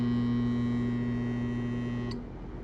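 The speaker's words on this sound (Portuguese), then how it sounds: "Esse é o barulho proveniente do compressor quando ele não consegue partir" A failing air-conditioner compressor, held back by a bad capacitor, gives a steady loud electrical hum with strong low tones as it tries and fails to start, then cuts off abruptly near the end.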